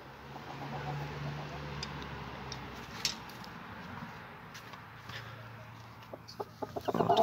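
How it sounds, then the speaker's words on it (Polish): Ornamental hens give soft, scattered clucks in their coop as they are shut in, faint and close, over a low background hum, with a few sharper knocks near the end. "Zamkniemy teraz kurki ozdobne."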